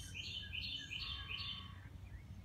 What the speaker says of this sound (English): There's the little baby chicks down there.